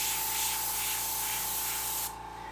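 An airbrush sprays paint on a Halloween pumpkin king piece, giving a loud, close, steady hiss with a faint tone that drops off sharply near the end.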